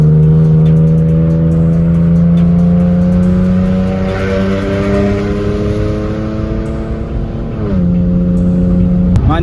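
A sports car engine revs loudly and close by, its pitch climbing and holding steady, dipping briefly, then rising again toward the end, with no talking over it.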